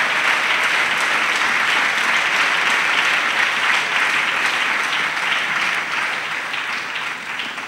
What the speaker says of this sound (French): Oui, acclamons.